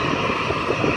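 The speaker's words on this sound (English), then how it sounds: "That's a big plane." Loud, steady roar of a large airplane's engines at Springfield-Branson National Airport, a dense continuous rumble close by with no speech over it.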